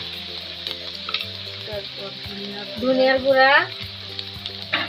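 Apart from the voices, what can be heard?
spice paste frying and stirring in a pan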